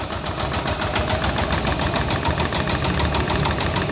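A hand tractor's small engine runs continuously and loudly close by, with a rapid, steady knocking pulse throughout and no talk over it.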